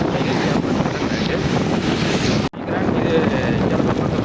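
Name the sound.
storm wind blowing with rain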